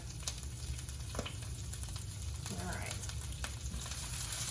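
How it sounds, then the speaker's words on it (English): Kale sautés in garlic and olive oil, a steady close sizzle and frying hiss running throughout, with a few faint clicks as the greens are tossed. "So we're just going to start tossing it around in the garlic and olive oil"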